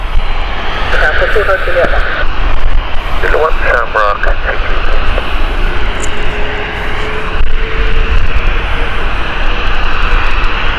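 A Norse airliner taxis out at Gatwick Airport, its engines a continuous loud drone with a rising whine, while a person talks over it and radio-like chatter comes and goes.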